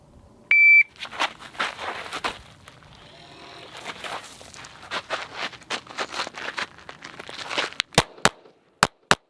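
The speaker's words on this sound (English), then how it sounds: "Start the buzzer, here we go." A short electronic shot-timer beep sounds near the start, followed by a rapid string of sharp 9mm gunshots from an S&W M&P9 2.0 pistol, then several loud isolated shots at the end.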